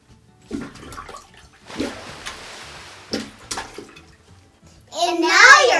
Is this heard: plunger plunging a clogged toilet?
yes